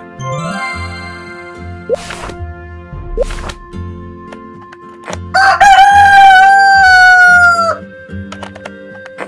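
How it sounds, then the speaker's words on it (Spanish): A cartoon rooster crows once, loud and close, during a Pocoyo alphabet fishing video game, with brief chime and jingle game effects before it and game music underneath. "Gallo."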